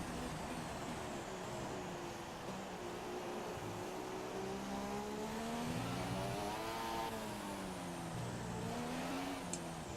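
A Formula 1 race car engine on a qualifying lap of the Spanish GP in the F1 2017 video game, a steady high whine rising and falling through gear changes with no talk.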